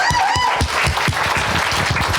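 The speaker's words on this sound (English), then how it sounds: "Clapping is also good for our energy, though." Audience clapping at a live talk event, a steady dense patter of many hands filling the room for a couple of seconds with no speech over it.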